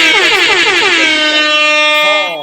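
Party air horn sound effect blaring loud and steady for over two seconds, a bright wavering harmonic blast that holds, then tapers off at the end, with no talking over it.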